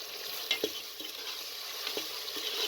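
Meat (gosht) fries quietly in a pot with a soft steady sizzle, punctuated by a few light stirring scrapes and taps.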